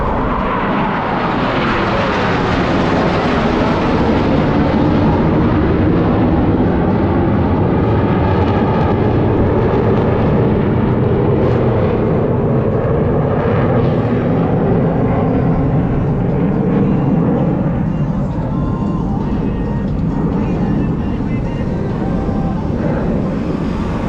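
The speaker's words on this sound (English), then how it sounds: "All four aircraft flying as one in this graceful" Four Blue Angels jets fly a diamond roll at an airshow, making a loud continuous jet roar that stays heavy and sustained throughout, with a slowly shifting pitch as the formation passes.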